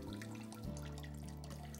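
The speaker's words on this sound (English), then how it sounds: "Empty the water from the bag into the toilet by releasing the clamp" Water from a urinary drainage bag pours and splashes steadily into a toilet, a soft continuous trickling stream heard up close and fairly quiet.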